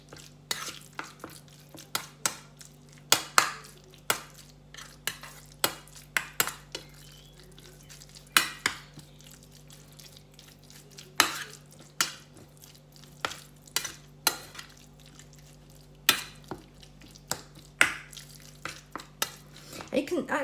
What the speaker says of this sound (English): just mix it all in so it's all coated nicely